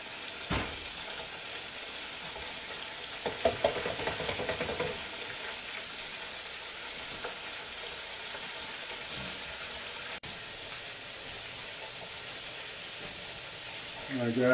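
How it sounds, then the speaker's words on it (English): Chicken sizzles and crackles steadily in a hot pan during a second frying, a continuous hiss with a few clinks and stirring knocks near the start. "I have to put my chicken back in to get that second frying."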